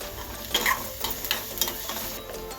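Sliced onion and lengthwise-cut green chillies frying in a pan over a medium gas flame, a close, steady sizzle broken by a few quick stirring scrapes, with no talking.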